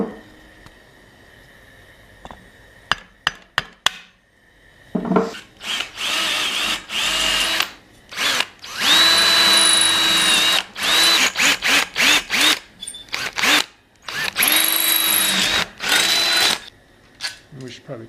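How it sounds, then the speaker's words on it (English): A power drill punches holes into the end of a bar for a homemade camera swivel mount, with repeated whirring bursts of varying length, some short and some sustained for a few seconds, close by, with people talking between runs. "Punch some holes right here, somewhere on the end of your bar"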